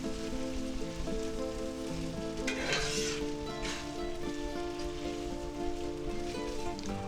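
Parsley flakes are stirred in a sizzling pan while cooking eggplant parmesan, giving a steady moderate frying hiss with a brief scraping swell of stirring partway through, no speech.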